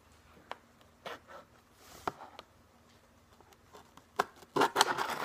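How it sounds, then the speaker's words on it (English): Scissors snipping open the packaging of a silver skate tool, with a few scattered soft cuts and rustles, then a cluster of louder crisp snips near the end. "Let me try the scissors."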